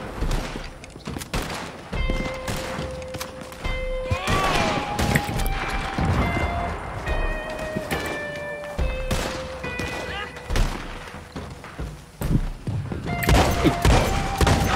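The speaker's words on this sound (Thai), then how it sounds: "เอาอีกแล้วปืนใหญ่อีกแล้ว" Cannon fire in Red Dead Online during a Call to Arms defence at Fort Mercer: repeated heavy booms and thuds scattered across the clip, mixed with gunfire and sustained game music tones.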